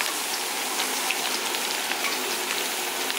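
About 200 grams of small onions (shallots) hit hot oil for a mutton curry, a loud, steady sizzle and crackle with scattered sharp pops, continuous throughout like heavy rain on a surface.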